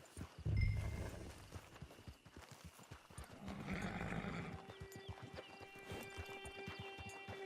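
Steady clip-clop of horse hooves walking, with a horse's whinny and snort mixed in, fairly close, in the video game Red Dead Redemption 2 Online.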